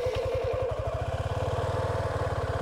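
A 2023 Suzuki V-Strom 250SX motorcycle engine idles close by, a low, even, rapid pulsing thrum that is quiet and steady, with no voices over it.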